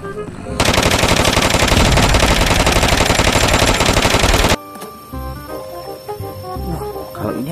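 A toy gun fires a dense, loud rapid burst of electronic machine-gun shots for about four seconds, then stops abruptly, leaving softer clattering and handling noise.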